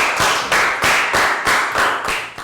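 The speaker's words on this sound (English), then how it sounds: "And a round of applause for everybody for doing so well." Classroom pupils give a brief round of applause, dense rhythmic hand clapping in fast repeated bursts, loud and near, with no voices over it.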